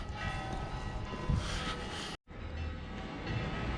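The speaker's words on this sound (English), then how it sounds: "In the distance you can hear the church bells ringing." Distant church bells ring through a steady rumbling wash of background noise in Tenerife, Spain, broken by a brief cut to silence midway.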